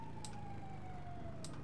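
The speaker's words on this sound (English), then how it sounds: "Sirens everywhere." An emergency vehicle siren wails faintly in the distance, a steady wavering tone over low traffic rumble across a brief moment.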